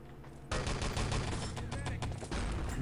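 Rifle fire erupts in a competitive video game match between Finland and the USA, rapid loud bursts of gunshots that begin abruptly after a brief quieter lead-in and continue densely throughout.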